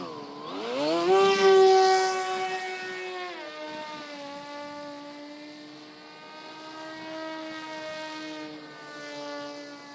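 Electric motor of a Crash Test Hobbies Assassin RC plane whines in flight, a steady harmonic drone that swells loud early, then settles and drifts slightly in pitch as the plane moves away.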